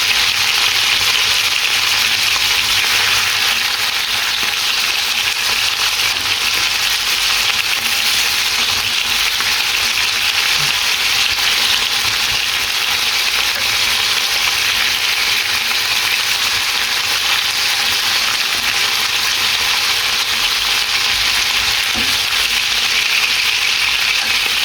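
Chicken and pork adobo frying in a pan while being stirred and flipped, a loud continuous sizzle and hiss with occasional scraping, steady throughout with no talking.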